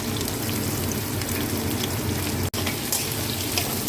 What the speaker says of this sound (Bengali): আলু পেঁয়াজ চিংড়ি মাছ আমি একসঙ্গে ভেজে নিচ্ছি